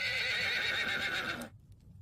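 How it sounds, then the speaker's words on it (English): A horse in pain whinnies loudly and close, a strained, shrill neigh lasting over a second before cutting off into near silence. "she heard a horse crying in pain"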